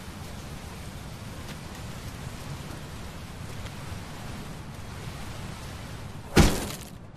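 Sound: rain falling in the video game Teardown

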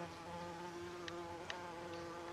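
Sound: bee buzzing in a garden

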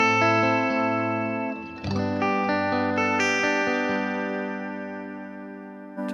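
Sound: guitar chords with reverb time and effects level at maximum

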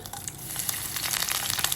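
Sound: mustard seeds spluttering in hot coconut oil

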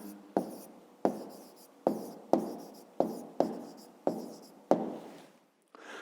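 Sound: pen writing on paper

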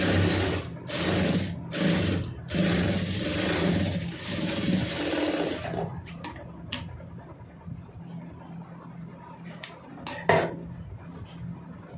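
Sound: sewing machine stitching a blouse neckline

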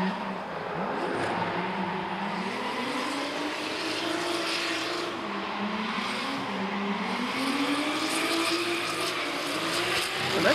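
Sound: drift car doing a lap on the track

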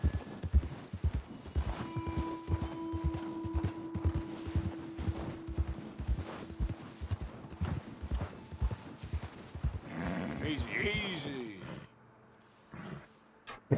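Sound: horse hooves clip-clopping on a trail in Red Dead Redemption 2 video game

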